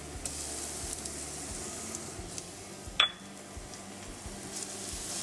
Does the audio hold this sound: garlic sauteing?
yes